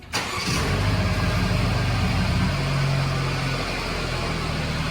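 A Mercedes-Benz E300 Exclusive 4MATIC engine cranks and catches, then settles into a loud, steady idle with a low rumble.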